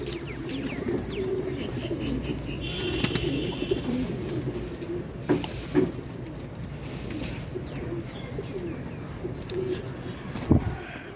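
Teddy Golden Kamagar pigeons coo repeatedly in soft, rolling calls, close by over a steady background murmur, with a few sharper knocks and clicks scattered through.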